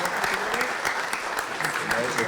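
An audience at a talk on peace for Israel and Palestine claps in a steady burst of applause, dense and sustained throughout.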